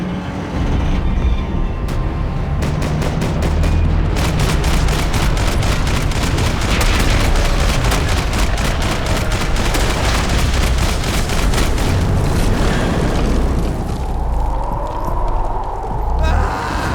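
Loud, sustained automatic gunfire and explosions from the video game Max Payne 3, rapid shots rattling over a dense combat din with voices shouting through it.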